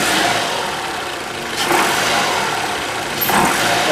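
A worn-out 2.5L engine in a 2013 Toyota RAV4 AWD, held in drive on the brake with bad motor mounts, revs loudly and close, the engine noise swelling twice over a steady running drone.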